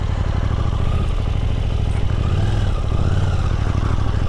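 A 2022 KTM 890 Duke GP with the tech package idles just after start-up, its engine giving a loud, steady, close rumble with light mechanical clatter throughout.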